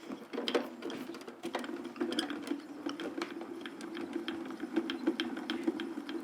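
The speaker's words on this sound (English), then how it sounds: "We're going to run it through the machine." Craft die-cutting machine with a filigree die passing through, a steady low mechanical whir with rapid, faint clicking and ticking throughout, close and unaccompanied by talk.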